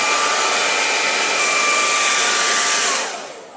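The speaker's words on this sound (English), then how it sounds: "And then we grab our hair dryer and we're going to dry it." A hair dryer blows with a loud, steady whooshing whine close by, then winds down as it switches off near the end.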